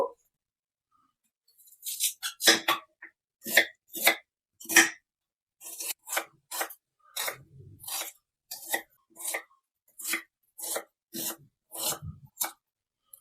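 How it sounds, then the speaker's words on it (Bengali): Two medium onions sliced thinly with a knife on a board, a steady run of crisp, close chopping strokes at an uneven rhythm, with no voices. "এখানে দুটো মিডিয়াম সাইজের পেঁয়াজ নিয়েছি, পেঁয়াজ দুটো এবার কেটে নেব।"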